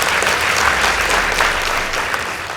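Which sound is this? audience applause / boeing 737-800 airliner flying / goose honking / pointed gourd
audience applause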